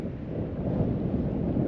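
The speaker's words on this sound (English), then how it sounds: "The wind's just blowing in a little bit." Wind blows steadily at a small bay in Shetland, making a low, rumbling buffet against the microphone that lasts the whole moment, with no talk.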